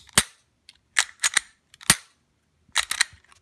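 A wooden Glock 19 replica being test fired: sharp, snappy cap-gun-like cracks, about eight shots in irregular clusters with short silent gaps, close and loud.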